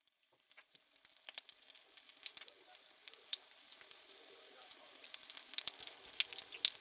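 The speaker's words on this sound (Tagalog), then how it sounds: "ilagay ang talong at iprito hanggang maging golden brown" Eggplant slices for tortang talong fry in hot oil in a pan over medium heat, giving faint, scattered crackles and pops that grow denser over time.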